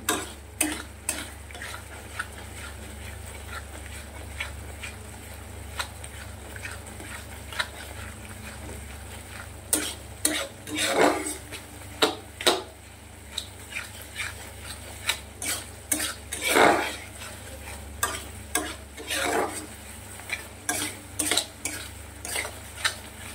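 Masala for katla posto is stir-fried in a pan, with a continuous sizzle under repeated sharp scrapes and clinks of a spatula against metal, scattered irregularly and heard alone.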